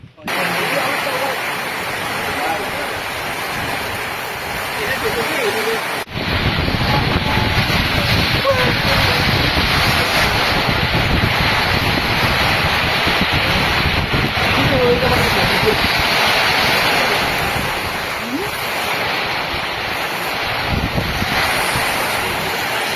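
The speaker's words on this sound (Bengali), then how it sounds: "আমরা বলতে বলতেই শুরু হয়ে গেল ঝুম বৃষ্টি।" A heavy, roaring downpour with gusting wind in Cox's Bazar rushes on continuously, loud and close, growing fuller after a few seconds, with voices faintly underneath.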